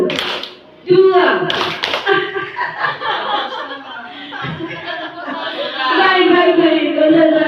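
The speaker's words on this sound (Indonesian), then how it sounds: "Sekali lagi, tepuk tangan 1, 2." A group of adults in a classroom concentration exercise clap their hands in a burst, mixed with laughter, chuckles and lively chatter that carries on throughout, fairly close and loud.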